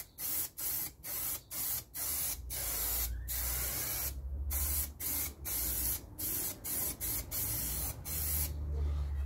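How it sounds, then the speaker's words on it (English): Spray glue hissing from an aerosol can while fitting Exmoor trim into a Land Rover Series 3 interior, in a long run of short close bursts with brief gaps between them, loud and near with no talk. "we'll have some spray glue on there"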